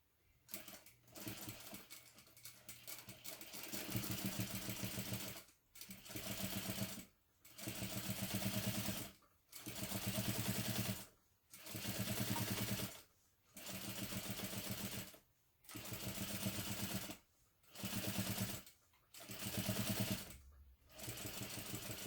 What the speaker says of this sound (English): I'm just going to pull my clips to the edge of the fabric so that I can just sew right next to them